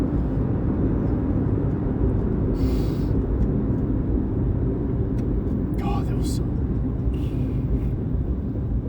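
A car driving down Hoddle Street, heard from inside as a steady low road rumble and engine drone with occasional faint clicks and rattles, continuous for the whole stretch.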